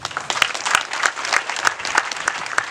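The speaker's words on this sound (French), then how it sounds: "Je voudrais que vous puissiez acclamer Nana Louis Kwaku Abonoa." A crowd claps and cheers for Nana Louis Kwaku Abonoa at a chief's enthronement ceremony in Oko-Farhis, with dense, continuous applause and sharp individual claps standing out close by.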